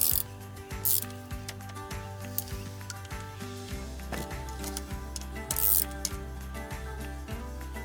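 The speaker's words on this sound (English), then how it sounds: "Tighten them up like you tighten up a wheel, really, just opposites, just to clamp the casing together evenly so that it slides together." A ratchet tightens the casing bolts on a Visteon alternator from a 2006 Ford Connect, with close, rapid clicking strokes repeated in a steady rhythm and short pauses between swings.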